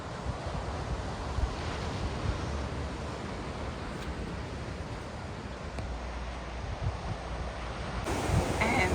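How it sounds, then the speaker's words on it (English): Ocean waves at a beach near Sydney, heard as a steady, loud wash of surf with wind noise hitting the microphone throughout and no voices. "I'm going down to the beach"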